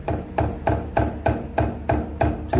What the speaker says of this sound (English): with the mallet, address the vise from this side